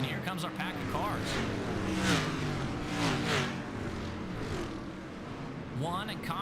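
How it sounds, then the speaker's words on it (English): A pack of race cars roars past at Knoxville during a DCSS money race, engines rising and falling in a loud, continuous drone while an announcer talks over it. "here comes our pack of cars"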